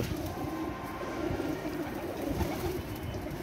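Soft cooing from teddy pigeons, faint and low against a muffled background hum, repeating in a loose, throaty rhythm with no talk.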